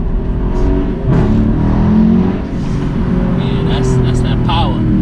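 A 2017 Dodge Daytona with a 392 engine pulls away hard from a green light, its loud, steady engine roar filling the cabin while people talk over it.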